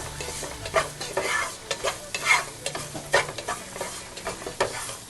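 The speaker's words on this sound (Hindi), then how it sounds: "नमक, अच्छे से हिलाएंगे।" Chicken pieces with red chilli powder and salt stirred in a hot pan for spicy chicken 65, a string of rhythmic scraping strokes over a steady sizzle, close and loud, with no talking.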